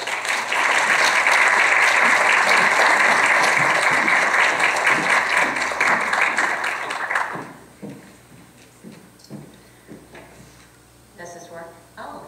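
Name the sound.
audience applause welcoming speaker to podium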